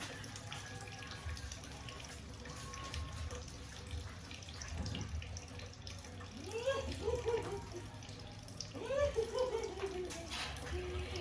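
Water runs steadily from a tap while a dog is bathed, splashing softly, with occasional faint whines and a quiet voice in the background.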